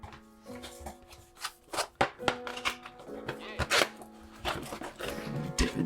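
Milkshake keycaps are handled, rattled and pressed onto a keyboard, giving irregular plastic clicks and clacks close by.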